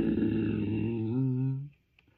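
A voice imitates the Jurassic Park Tyrannosaurus rex growl: one deep, rumbling, close-mouthed snarl lasting under two seconds, loud and close, then silence.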